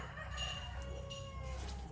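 Hens and a bantam rooster in a farmyard pen, with a rooster crowing in long drawn-out calls among scattered clucking, mid-distance and moderately faint over a low background rumble.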